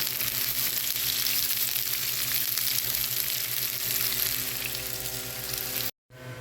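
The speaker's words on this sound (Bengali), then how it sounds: "এখানে পেঁয়াজটা আমি ভেজে নিয়েছি" Onions frying in oil in a frying pan, cooking for a dried-fish dish with eggplant and potato, give a loud, steady, close hiss of sizzling that runs unbroken until a sudden brief cut near the end.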